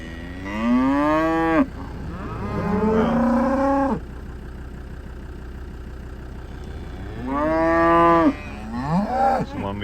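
A black cow lets out two long, loud moos, one near the start and another near the end, with a low engine idling in between.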